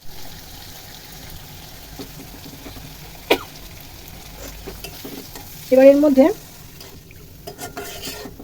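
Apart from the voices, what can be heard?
stirring masala spices frying in a pan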